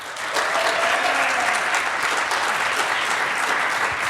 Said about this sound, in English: How about a round of applause for Florida?